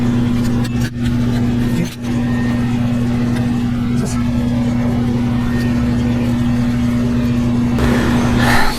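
A Tecumseh HM80 8 hp engine on a Craftsman tiller attachment runs steadily at full throttle, a constant droning hum with a strong low tone, continuing loud and close while a voice speaks over it.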